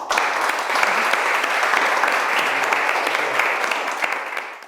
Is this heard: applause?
yes